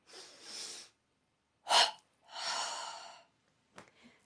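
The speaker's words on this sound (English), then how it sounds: "double inhale, tense up, double exhale, release down" Deep breathing exercise done as a double inhale and double exhale: sharp, airy breaths in two pairs, close and breathy, with short silent pauses between each rush of air.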